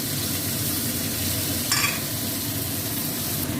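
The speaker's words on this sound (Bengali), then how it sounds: "এই যে ধনে পাতাটা আমি ভেজে ওতে দিয়ে দেবো" Coriander leaves fry in hot ghee with a steady, close crackling sizzle and a faint stirring scrape partway through, continuous and without speech.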